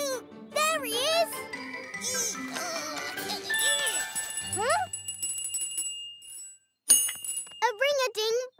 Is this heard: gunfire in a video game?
no